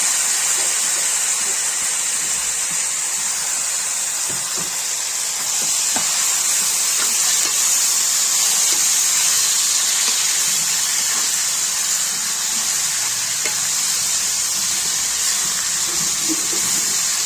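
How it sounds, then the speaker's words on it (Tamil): Six large chopped tomatoes sizzle in a pan for a suthumbu fish curry, a steady bright hiss with faint crackles running close and unbroken throughout, no talking. "ஆறு பெரிய தக்காளி அது போட்டோம்"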